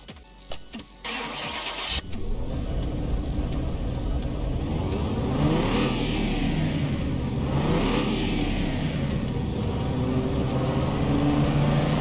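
A car engine in Car Mechanic Simulator 21 cranks and catches after a few clicks, then holds a steady loud drone on the dyno with rising and falling rev sweeps, close up and with no talk.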